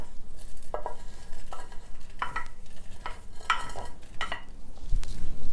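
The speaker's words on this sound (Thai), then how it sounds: "เดี๋ยวเรามาเริ่มตำกันเลยนะคะ อันดับแรกเราก็จะใส่พริกหอมกระเทียมลงไปก่อนนะคะ" Dried chili, shallot and garlic tumble into a mortar for pounding nam prik pla ra, giving about five separate knocking, scraping clatters in an uneven rhythm, close and moderately loud over a low background hum, with no talking.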